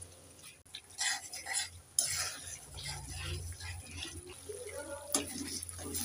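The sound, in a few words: stirring and frying spice paste with a little water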